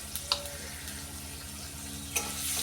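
Tomato and capsicum fry in a pan, a soft steady sizzle broken by a few light scrapes and clinks as they are stirred, close by with no voice.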